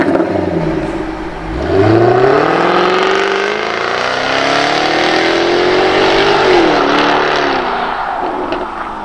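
Jaguar F-Type convertible sports car engine starting and revving, a loud close rising growl that settles into a steady rumbling idle with gentle rev swells.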